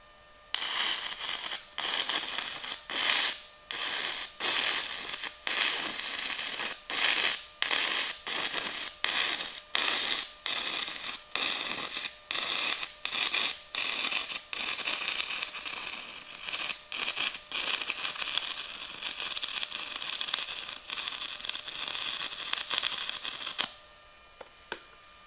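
An Arccaptain MIG 200 welder set at 85 amps lays a bead in uneven pulses, a loud crackling buzz that keeps breaking off into short gaps for over twenty seconds before stopping.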